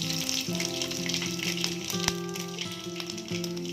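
Garlic cloves, cumin, mustard seeds and green chillies fry in hot oil in a pan, giving a steady, close hiss with faint crackles running unbroken from start to finish, no voices over it.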